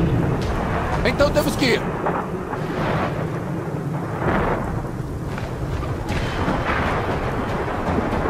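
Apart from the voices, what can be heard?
windstorm with thunder in video game Gears of War 4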